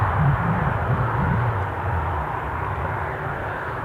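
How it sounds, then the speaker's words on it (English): Eastern Airways British Aerospace Jetstream 41 turboprop on final approach at an airport, a steady low droning engine rumble heard from a distance throughout, with no one talking. "Our Eastern Airways British Aerospace Jetstream 41 from Aberdeen on finals"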